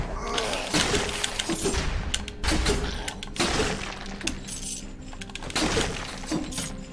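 Objects smash and shatter in the action game Dead Cells, with repeated glassy breaking crashes and clinks spread across the stretch over busy game sounds.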